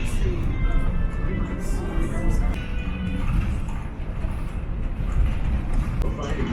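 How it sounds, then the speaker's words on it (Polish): Steady low rumble and rolling rattle of an elevated railway car moving past Las Vegas hotels, continuous and close throughout, with faint voices murmuring in the background. "I jedziemy właśnie kolejką nadziemną"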